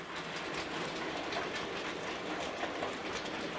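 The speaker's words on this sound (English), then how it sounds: "Here's a nice panoramic shot of the loco pulling a long coal train" Heljan Class 54 model locomotive pulling a long coal train, heard as a faint, steady rolling rumble with light rhythmic clicking of wheels over track joints, distant and continuous.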